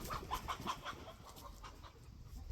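Farmyard chickens from a flock of about 30 cluck in a quick, uneven run of short notes early on, then fade into a busy outdoor background.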